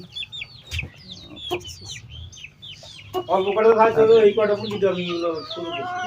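Chickens of a new breed cluck and squawk in a coop, nearby and fairly loud, with a denser burst of clucking in the second half over steady background noise.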